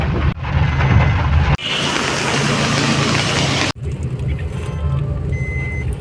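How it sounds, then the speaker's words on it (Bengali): Heavy rain pours down around a house in Naihati, a loud, dense roar that cuts in and out abruptly between sections with a rumbling, traffic-like background. "যাই বেরোলাম খুব বৃষ্টি এখানে"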